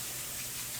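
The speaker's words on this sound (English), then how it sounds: "Sorry for the loud water running. I gotta wash my fingers because they're all sticky." Tap water runs steadily into a sink while sticky fingers are washed, a constant close hiss of flowing water with no break and no talking.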